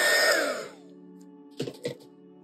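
A heat gun blows steadily on drying ink, a loud whooshing roar that winds down and stops, followed by faint background noise and a couple of soft knocks.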